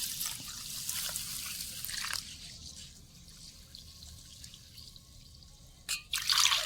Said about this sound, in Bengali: তো এবারে চালের মধ্যে এবারে জল দিয়ে দেবো।